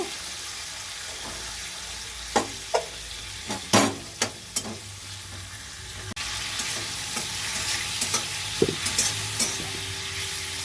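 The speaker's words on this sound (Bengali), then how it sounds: "টমেটোটাকে দিয়ে ভালো করে কষিয়ে নেব" Tomato sizzles as it is sautéed and stirred with spices in a pan, a low steady frying hiss punctuated by several sharp clanks and scrapes of a spoon against the pan, close up, with no voices.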